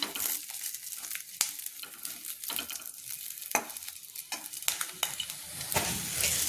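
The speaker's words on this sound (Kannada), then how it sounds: "ಸಣ್ಣ ಉರಿ ಇಟ್ಕೊಂಡು ಮೆಣಸಿನ್ಕಾಯಿ ಹುರಿಬೇಕು ನೋಡಿರಿ" Green chillies frying in a little oil on a low flame for onion chutney, with a close, continuous sizzle and repeated scraping stirs and clinks of a spoon against the pan.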